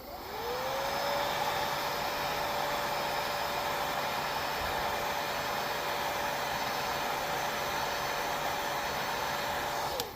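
A heat gun blowing steadily to heat-set a soft plastic swimbait, a constant close whooshing drone with a fan whine that holds unchanged for about ten seconds, then cuts off.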